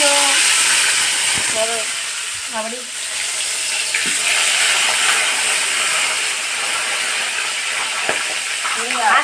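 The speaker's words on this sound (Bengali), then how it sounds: "এখন মাছগুলো ভাজা চলছে মাছ ভাজা" Fish fry in a hot pan in a home kitchen with a constant loud sizzling hiss, while people talk intermittently in the background.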